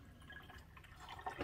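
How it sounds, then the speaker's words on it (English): Water trickles and drips into the reservoir of a Chulux K-Cup single-serve coffee maker, a faint, uneven liquid patter with a few brighter splashes near the end, no voices. "I'm just going to put 10 ounces of water right here."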